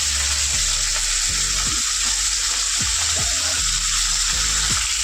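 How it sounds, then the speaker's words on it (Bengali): Tilapia fish fry in hot oil in a pan, a loud, constant sizzle and crackle with intermittent low scraping knocks from turning or stirring, close up and without talk. "দিয়ে তিনটে মাছ আগে আমি ভেজে নেবো।"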